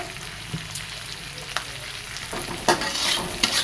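Cubed onions with salt being stir-fried in a hot pan: a steady broadband sizzle of frying with scattered scraping stirs and clatters, close and moderately loud, no voices.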